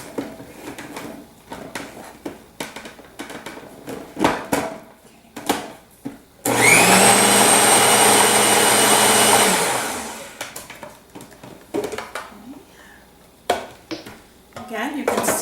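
Blender whirring loudly for about three seconds as it mixes a vegan burger mixture of black beans and bean liquid, set among kitchen clatter of dishes and utensils before and after.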